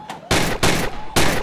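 Gunfire in the VR shooting game Gun Club VR: three sharp, loud, close shots in quick succession, each with a short ringing tail.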